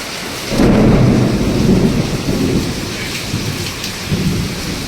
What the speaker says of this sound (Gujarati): વીજળી પડી ક્યાંક.